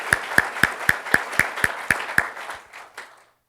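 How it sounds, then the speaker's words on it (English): Sparse applause at a talk on climate, a few hands clapping in a steady, even rhythm of sharp, close claps about four per second, trailing off into soft, scattered final claps. "let's give them a round of applause"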